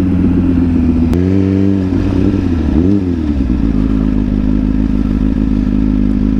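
A Suzuki GSX-R motorcycle engine drones loudly nearby on a circuit as the bike goes down, with a sharp knock and a pitch dip followed by scraping clatter, after which the engine settles back into a steady roar.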